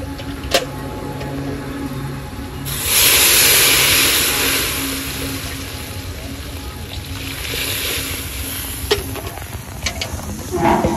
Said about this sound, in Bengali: এই যে ঝোল ফুটে উঠেছে